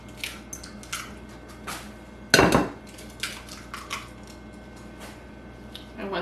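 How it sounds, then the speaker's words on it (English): Two eggs cracked into a mixing bowl while baking an apple butter cake roll, one loud sharp crack and splat near the middle among lighter kitchen clinks and taps, close by with no talking. "We're going to crack our 2 eggs."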